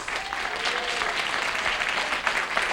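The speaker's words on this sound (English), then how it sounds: "that is not canned applause" A studio audience claps warmly and continuously, a dense wash of applause from many hands with no voices standing out.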